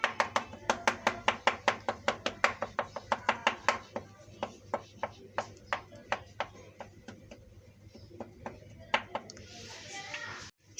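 Pizza dough on a baking surface being pricked with a fork, a long run of crisp, evenly spaced taps, quick at first and then slowing, close and clear over a low background hum.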